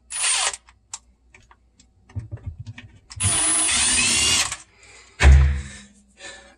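Impact wrench with a 10 mm socket loosening a nut while removing a garbage disposal: a short rattling burst, a longer sustained whir of several seconds, then a heavier thump and brief burst, separated by quieter handling noises.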